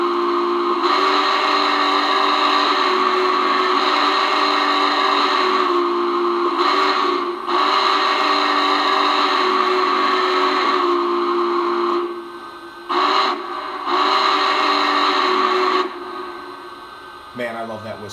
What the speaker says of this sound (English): it just didn't sound like a beefy steam whistle to me. But this is the new whistle.